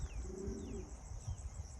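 Pigeons of a Kazakh-Adana breed coo in a low, steady murmur, with a soft warbling call near the start and faint chirps over a constant background hum.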